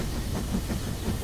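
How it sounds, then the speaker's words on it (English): A cartoon toy train rumbles through a tunnel, a dense, steady, loud rolling roar with hiss and faint rhythmic clatter, no speech. "Mr. Train is going through a tunnel."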